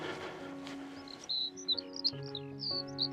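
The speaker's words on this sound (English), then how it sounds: "small birds chatter constantly from the thorny branches above" Small birds, including stonechats, chattering among thorny bramble bushes on the Devon coast at Westward Ho!, a few high chirps and tweets over a steady musical background.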